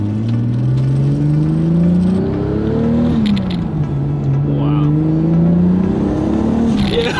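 A Toyota Supra with a brand new clutch, freshly finished after a two-year build, revs up in several rising pulls, its loud engine note climbing, dropping and climbing again close by.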